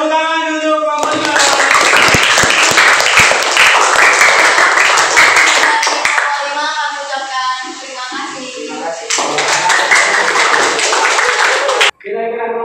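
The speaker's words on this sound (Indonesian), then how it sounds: "tepuk tangan untuk kelompok 5" Classroom applause for student group 5 during a teaching practice lesson, dense clapping from many hands filling most of the clip, easing midway then swelling again before ending abruptly, with voices mixed in.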